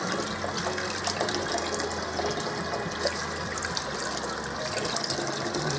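Tap water runs steadily into a kitchen sink, rinsing snipped green beans for canning and washing the scraps down the drain, a continuous close gushing with no talking.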